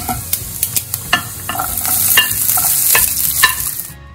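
Sliced onions sizzle in hot oil with urad dal, chana dal and dried red chillies for a masala dosa filling, with a spatula scraping and tapping the pan in quick strokes over a steady loud fry.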